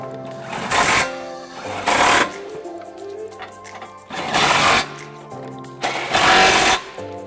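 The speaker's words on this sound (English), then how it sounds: "now using our 21 millimeter swivel socket, we're gonna go ahead and tighten it up" A power tool fitted with a 21 mm swivel socket tightens trailer hitch bolts under a 2012 Jeep Grand Cherokee, loud rattling bursts of about a second each, four in a row with brief pauses, close up.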